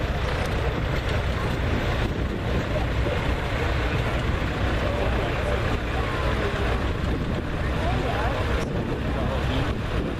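A 1952 International Super C tractor drives in an outdoor parade, heard as a steady low engine rumble under heavy wind and crowd noise, with voices faintly mixed in.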